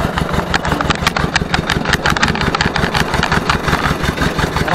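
Ursus C-325 tractor engine running steadily on a rural dirt road, a loud, close, rhythmic diesel chug with rapid even firing pulses and no voices.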